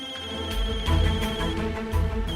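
A phone rings with a melodic electronic ringtone, a repeating tuneful pattern played at steady volume, close and unaccompanied by talk.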